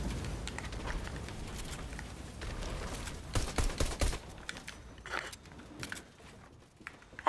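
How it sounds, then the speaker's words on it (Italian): Gunfire in the video game Fortnite, a pistol firing in a series of sharp cracks, some in quick bursts around the middle, over a noisy background of game sounds. "Ti sparo con la pistoletta!"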